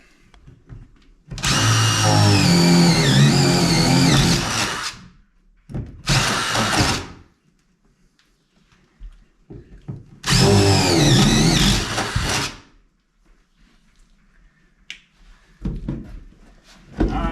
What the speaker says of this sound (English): I'll drill a couple of holes, take a peek down in there